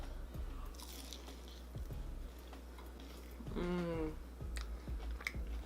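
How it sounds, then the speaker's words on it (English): Close, quiet crunchy bites and chewing of mozzarella sticks with cheesy sauce, a few crisp crackles spread out with soft mouth sounds between them. "now I'm gonna try some mozzarella sticks with this cheesy sauce"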